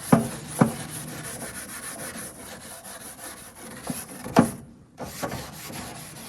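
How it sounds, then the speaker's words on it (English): A wire brush scrubs grill grates in a steady raspy rub, with a few sharp clanks of metal on the grate and a brief pause near the end. "I've never had any problems with wire brushes, and they do the best job at cleaning the grates."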